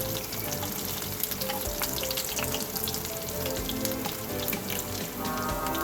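Whole red chillies sizzling in hot oil for a tempering of dahi phulki salan, a dense, steady crackle close up with sharp spattering pops throughout.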